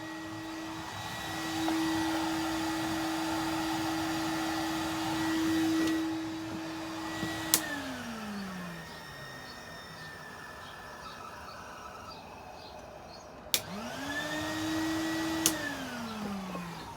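A Numatic CTD570 vacuum cleaner running outdoors on only one motor, a steady whining hum that winds down with a falling pitch, then is switched on again with a click and spins back up.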